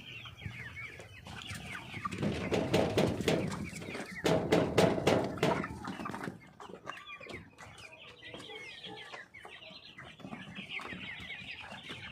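Tiger breed chickens cluck and squawk close by, in a busy burst of repeated calls that rises and then gives way to quieter scattered clucks and rustling.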